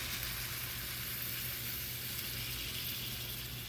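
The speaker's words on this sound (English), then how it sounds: "Gonna mix in those beans now with the lid." Beans sizzle steadily in a pot over a camp burner at a backyard campsite in the Kern River Valley, a constant, fairly quiet frying hiss with a faint low hum beneath it, no voices.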